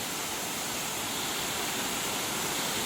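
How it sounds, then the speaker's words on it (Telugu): Erakampalem waterfall roars as a loud, unbroken wash of falling water close by, steady and dense throughout with no voices. "వాటర్ ఫాల్స్ అయితే చూడడానికి ఎలా ఉంటుంది, మీరైతే వాటర్ ఫాల్స్ అయితే చూడండి."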